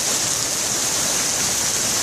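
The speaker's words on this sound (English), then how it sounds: "in the pouring rain" Heavy pouring rain during a wicked hailstorm in Toronto, a steady dense hiss of water falling continuously and loudly throughout, with no voices.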